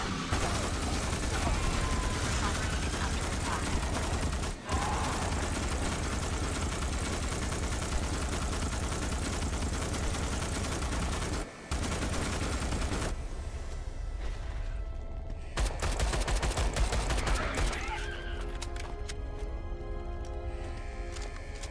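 Sustained gunfire and bursts from the Starship Troopers: Extermination video game, loud and dense with constant battle noise and brief dropouts, under occasional talk.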